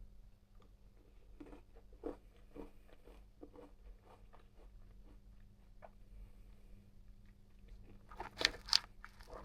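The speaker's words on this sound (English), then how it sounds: "You get the crunch from the biscuit, and you get crunch from a sprinkle as well." An iced biscuit topped with sprinkles, an Australian snack, is crunched and chewed close to the microphone, giving a quiet run of irregular crisp bites that ends in a couple of louder crunches.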